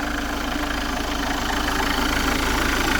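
A Mitsubishi Warrior pickup truck engine idling during a coolant flush, a loud, close, steady low rumble with an even ticking pulse and no speech.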